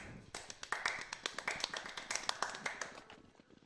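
Scattered clapping from an esports match audience, with sharp irregular claps rising and thinning out, faint and somewhat distant.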